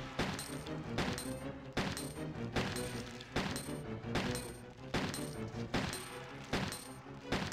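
Gunshots from a Resident Evil 2 survival-horror session, fired in a steady rhythm of about ten sharp, loud reports spaced under a second apart, each with a short echoing tail, with no talking over them.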